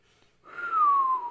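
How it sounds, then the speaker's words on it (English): A person whistles a single, clear, slowly falling note, close and fairly loud after a brief quiet start. "Corey whistles."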